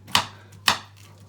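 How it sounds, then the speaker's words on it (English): A knife chops through pineapple flesh on a board, cutting it into big chunks: two crisp, close thuds about half a second apart, with quiet pauses around them. "I'm just going to cut it into nice bits"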